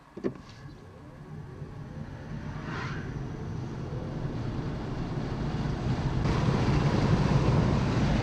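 Kia e-Niro e-Premium electric car accelerating hard from standstill to 100 km/h, a rising whine and building road and wind roar that grows louder toward the end, with a brief knock at the start.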